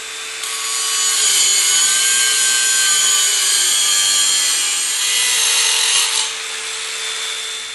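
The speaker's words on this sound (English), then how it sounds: "But first I need to cut the thread to size." Threaded rod is cut to length with a hand saw for a heavy-duty foldable assembly table, giving a steady, continuous rasping stroke that stays close and loud, with a slight pause near the end and no talking.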